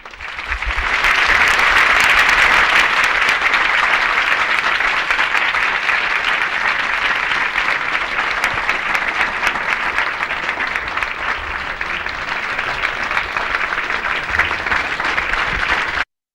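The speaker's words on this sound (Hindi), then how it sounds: "बाकी सब जोर से ताली बजाएं।" Devotees at a morning Ashtami satsang clap together in a steady, dense, continuous wave of applause, loud and close throughout with no talk on top.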